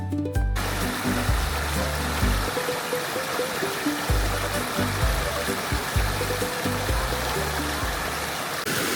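Fresh water stream flowing on a walking route around Lake Garda, a steady broadband rush that fills the whole clip at close range, with no voices over it.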